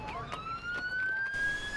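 A police siren wails with a rising tone, heard at moderate distance over low traffic rumble.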